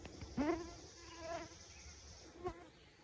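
Honey bees buzz around a nuc being installed into a new Flow Hive, a faint, wavering drone with a few bees passing close in short, louder bursts.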